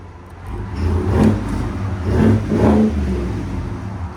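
Loud, deep blips from the 6.2L V8 of a 2023 GMC Yukon Denali with a Flowmaster FX cat-back exhaust, three quick throttle stabs rising over a steady bassy rumble.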